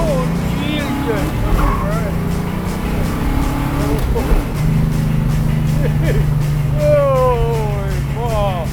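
Ford Mustang with a 427 engine roaring steadily through a ride-along, a loud continuous drone with shifting pitch as people talk and exclaim over it throughout.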